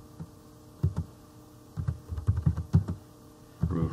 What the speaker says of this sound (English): let's go ahead and we can begin typing